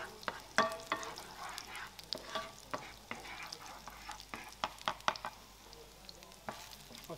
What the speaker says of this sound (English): so we sweat our onions there